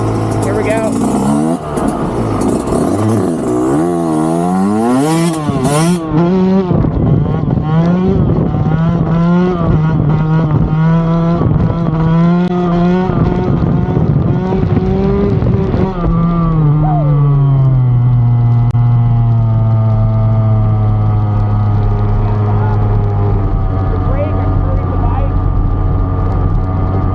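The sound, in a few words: 4-stroke dirt bike engine revving during wheelies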